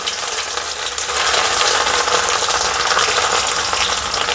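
Chopped ginger and garlic sizzle steadily in a pan for a Manchurian sauce, a dense, loud frying hiss that swells after the first second and holds without pause.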